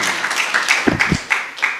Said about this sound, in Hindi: बहुत तालियां बजाइए